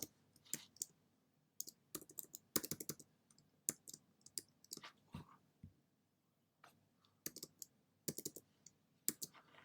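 Irregular bursts of keyboard typing with sharp clicks and key presses, close up, in quick clusters separated by short pauses; no voices.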